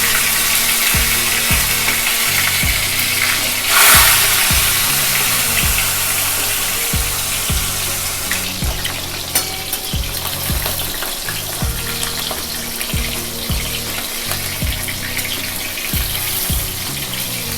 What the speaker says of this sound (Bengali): তেলটা ভালো মতন গরম হলে আমরা একে একে কই মাছগুলোকে এবার ভেজে নেব।